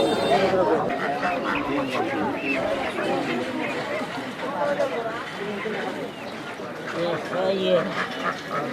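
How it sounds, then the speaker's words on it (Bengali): Domestic ducks quack amid the bustle of a rural poultry market in Bangladesh, their calls scattered through the clip under a constant hubbub of nearby chatter and voices. "পাতিহাঁস।"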